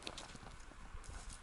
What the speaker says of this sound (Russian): Что-то конь поскакал.